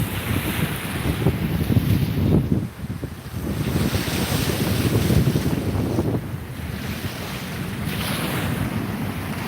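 Surf rolls and breaks at Fort Walton Beach while strong wind buffets the microphone, a loud, continuous roar rising and falling in waves.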